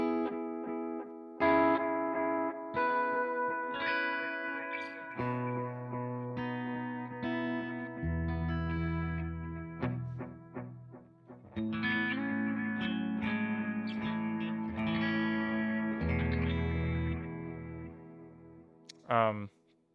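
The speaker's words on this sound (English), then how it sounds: "So my ping pong kind of sounds like this." An electric guitar runs through a pedalboard ping pong delay, its picked notes and chords echoing back and forth in a spacious, repeating trail, moderately loud and close, with brief pauses between phrases.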